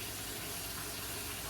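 Salmon juice is poured off baked salmon portions, a soft continuous trickle of liquid that runs steadily and fairly quietly without pause for under two seconds.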